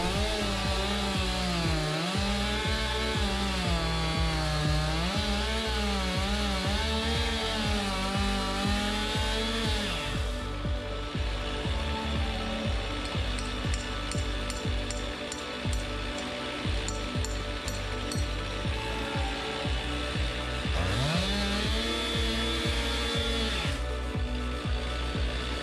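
A chainsaw saws through firewood logs, its sharp chain cutting well, the engine holding a loud, steady cutting whine that rises and falls with revs, briefly easing partway before bearing down again.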